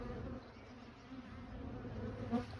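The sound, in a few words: honey bees buzzing around hives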